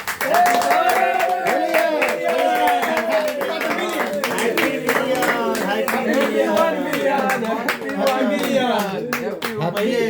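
Rhythmic clapping from a group at a cake-cutting celebration for a Bhojpuri Holi song milestone, loud and close, driven under continuous chatter and singing-like voices throughout.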